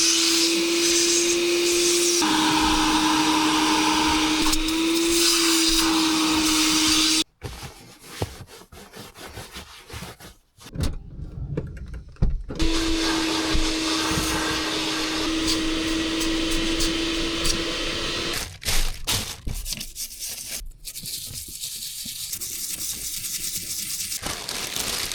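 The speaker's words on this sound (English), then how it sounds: "So let's hoover the rest of the front now" A hoover vacuums the front interior of a VXR car, a loud steady whine that cuts out midway for bursts of rubbing and clatter, then resumes before stopping again near the end.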